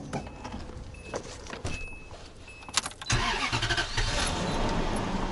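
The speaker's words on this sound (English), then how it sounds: "We're gonna go ahead and run the engine until the thermostat opens or normal operating temperature is reached" A Toyota Century with a suspected head gasket problem has its engine started after some faint handling noises, then idles steadily and evenly nearby while it warms up.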